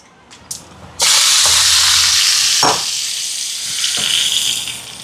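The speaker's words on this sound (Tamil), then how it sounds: "இப்போ தாளிச்சத்தை இறக்கி பருப்புக்கு கொட்டுவோம்." Hot oil tempering of mustard seeds, curry leaves and dried red chillies poured into cooked dal for a fish lunch, bursting into a loud, sudden sizzle and steamy hiss that continues strongly, with stirring clinks near the end.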